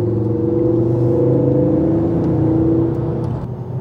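The engine of a Ford Focus RS500 rally car hums steadily and loudly from close by inside the car, a sustained whirring drone that eases slightly near the end.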